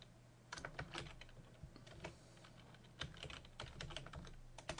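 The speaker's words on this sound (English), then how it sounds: "We're going to type" Typing on a computer keyboard while writing HTML, with quiet, close key clicks coming in short uneven bursts and small pauses between them, with no speech.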